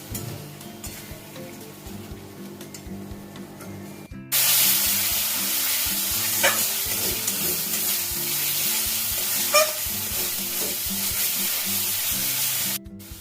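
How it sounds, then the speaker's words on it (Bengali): Ginger-garlic spice paste sautéing in hot oil in a pan for a Bengali fish curry, a steady loud sizzle with occasional pops and stirring scrapes, quieter at first then jumping up after a splash of water. "সব মশলা দিয়ে খুব ভালো করে কষে নেব, যাতে আদা রসুনের কাঁচা গন্ধটা না থাকে।"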